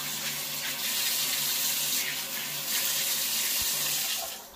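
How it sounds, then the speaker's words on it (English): Steady, full rush of water pouring from a kitchen tap into a sink, continuous and close for the whole stretch with slight swells in force, no voices. "to see the water coming out of the tap was a relief"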